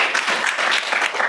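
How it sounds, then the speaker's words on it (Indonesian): A classroom of students applauds in a short, lively burst of clapping that lasts just over a second. "Oke, sekali lagi tepuk tangan bagi kita semua."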